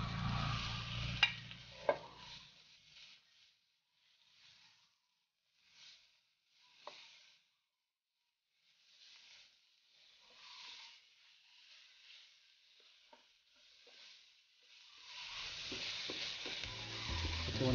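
Ground pork frying in a pan for sinampalukang sitaw, with intermittent sizzling and stirring scrapes, quiet through the middle and swelling louder near the end.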